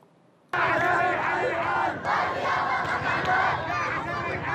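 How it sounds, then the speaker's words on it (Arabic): Sports fans at a street protest in Ibb, Yemen, chanting a slogan in unison, a loud rhythmic crowd of voices that bursts in after a quiet moment and carries on with repeated shouted phrases. "الرياضة خط أحمر هتاف ردده الجمهور الرياضي في محافظة إب خلال تظاهرة"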